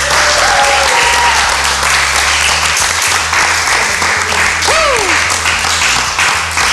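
Dense, steady applause from a church audience during a theology quiz, loud and continuous for several seconds with a faint tonal sweep midway.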